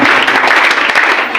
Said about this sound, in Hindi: एक बार इनके लिए जोरदार ताली हो